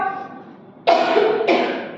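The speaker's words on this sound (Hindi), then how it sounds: "आज बहुत ज्यादा खांसी है" Two sharp coughs burst out close by, one after the other, following a brief murmur of speech.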